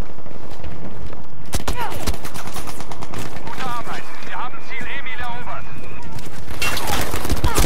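Gunfire in the video game Battlefield 5, rapid bursts of shots and sharp cracks spread across the clip, loud and dense, with voices and other game effects mixed in.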